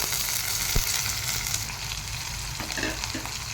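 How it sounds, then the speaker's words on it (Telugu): Raw banana pieces fry in hot oil with curry leaves and chopped green chillies, giving a steady, dense sizzle that runs close and even throughout with a few brief crackles. "ఇవి వేగేటప్పుడే కొంచెం కరివేపాకు వేసుకోవాలి"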